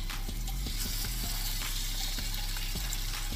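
Thick filet mignon steak searing in a hot pan, a steady close sizzle and crackle running throughout with a low rumble underneath.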